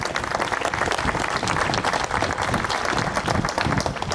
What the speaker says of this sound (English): That is another round of applause.